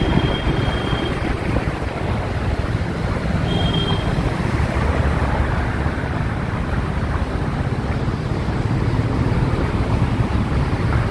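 A vehicle moves slowly along a flooded road in Maruti Kunj where the surface has vanished under standing water, giving a steady, loud wash of splashing water and rumble throughout, mixed with heavy wind buffeting.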